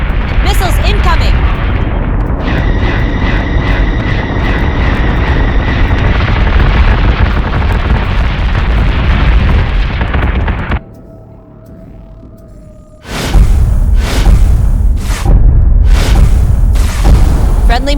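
Missile explosions in the space combat game Battlestar Galactica Deadlock: loud, sustained booming blasts that fill the mix, a brief lull, then another burst of heavy detonations, with voices talking over the battle.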